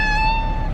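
A pet cat meows during transport, one loud, close, drawn-out cry that holds steady and slowly falls away, with a low rumble of movement underneath.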